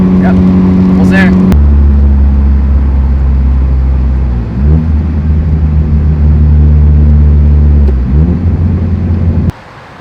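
Cars arrive one after another at a rainy supercar meet, including a tuned 500 hp Honda Civic Type R FK8, their engines droning loudly and steadily close by, with a deeper surge near the end before cutting off abruptly.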